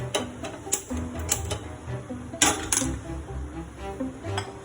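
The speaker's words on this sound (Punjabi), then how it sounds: "ਆਪਾਂ ਗੈਸ ਚਲਾ ਲਿਆ ਜੀ" A series of sharp clicks and ticks at irregular intervals from a gas stove igniter being worked, over steady kitchen background noise.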